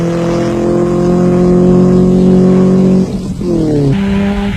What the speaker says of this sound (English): With their buckies sounding as good as new and still leading Class 5 and lying 5th overall were Alfred van Vuren and Pierre Pelzer in the Sasol Toyota Hilux